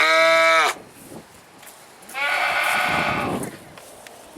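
A sheep in heavy wool bleats loudly at close range on a farm, giving two drawn-out cries separated by a short quiet pause.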